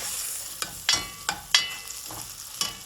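A spoon stirs wild rice, mushroom and butternut squash soup in a pot after salt goes in, giving soft scraping swishes with a few sharper clinks against the pot over a faint sizzle, close and moderately quiet.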